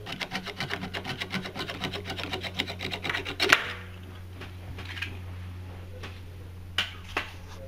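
Cutting a fabric strap for a manual roller shutter, a close rhythmic rasping saw-like scraping for a few seconds, then quieter handling noises and a couple of sharp clicks.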